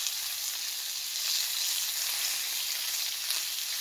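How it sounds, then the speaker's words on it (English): Burgers and bacon sizzle over a campfire in a rainy Scottish forest, a steady close hiss and crackle of frying fat running continuously without any talking. "listen to that sizzle"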